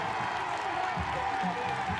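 Fired-up crowd at a college baseball game between Vanderbilt and Tennessee cheering and applauding a two-out base hit stretched into a double, a steady, distant roar of many voices that rises in small swells.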